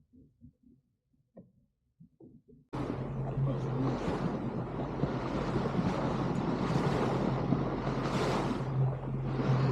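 After faint distant voices, a motorboat engine off Makarska suddenly roars up and holds loud and steady, with water rush and wind buffeting the microphone.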